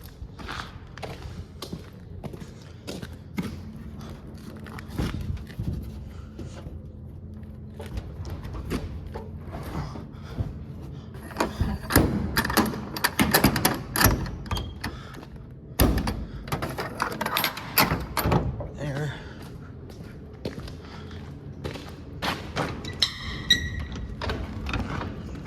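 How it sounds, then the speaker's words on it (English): Metal sliding doors on a farm building are dragged and shoved along their track, giving irregular clanks, thumps, scrapes and rattles in uneven bursts, loudest in the middle stretch, with no talking. "I hate sliding doors."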